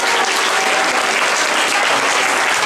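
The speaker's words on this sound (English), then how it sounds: "So give them a big round of applause." A loud, dense burst of applause from the audience at a Janmashtami cultural program in Melbourne fills the whole stretch, a steady roar of many hands clapping with no talk.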